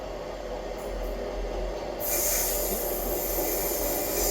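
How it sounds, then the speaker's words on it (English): A ScotRail class 158 diesel unit pulls in on the Leven to Edinburgh Waverley service at Dalmeny, a fairly quiet, steady rumbling hiss that grows brighter and fuller partway through. "Arriving in now is the 1644 ScotRail service from Leven to Edinburgh Waverley"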